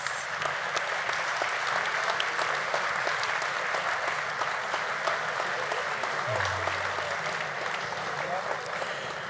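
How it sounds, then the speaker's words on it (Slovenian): Sustained applause from a large audience at a Slovenian armed forces command day ceremony, a steady dense wash of clapping throughout with a brief low hum near the end. "Z nami danes tudi Monika Avsenik, en velik aplavz."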